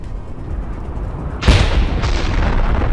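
A tank cannon fires in a tank duel in the Ukraine war. One sudden, loud blast booms out midway over low background rumble, then a rough, noisy tail lingers.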